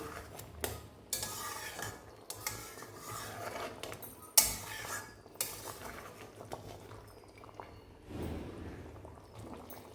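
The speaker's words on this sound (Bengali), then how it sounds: "আমি আবারও একবার নাড়িয়ে দেব" A utensil stirs katla fish in mustard sauce in a metal pan: irregular scraping and clinking strokes with brief pauses between them, moderately close, no talking.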